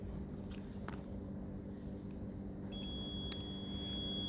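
A faint, steady electronic tone from a multimeter on continuity test comes in partway through as the probes touch a Land Rover Discovery 2's starter fuse, sitting quietly over a low background hum.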